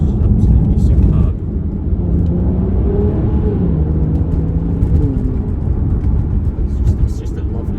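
A 2014 Aston Martin DB9 Carbon Edition coupé with a naturally aspirated 5.9-litre V12 holds a steady, deep engine and exhaust rumble with rising and falling tones, loud and close throughout.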